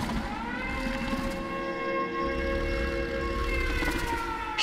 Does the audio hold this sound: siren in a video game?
yes